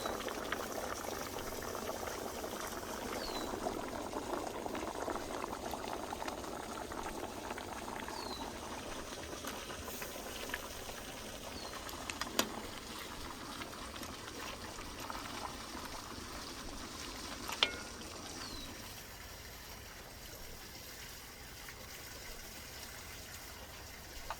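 Beef rib broth with potatoes bubbling at a steady boil in a pot, a continuous soft simmering hiss and burble with a few faint clinks, no talking.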